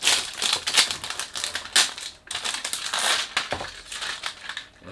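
A cylindrical cardboard perfume box for Orientica Riqqa Dhahab is handled and opened, producing loud, close crinkling and crushing sounds in irregular bursts for several seconds.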